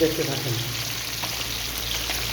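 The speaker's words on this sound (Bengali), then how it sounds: "অলরেডি আমি তেলে ছেড়ে দিচ্ছি কিছু মাছ ফ্রাই হতে আছে" Sea fish frying in hot oil, a steady crackling sizzle with faint spits and pops running throughout, low kitchen hum underneath.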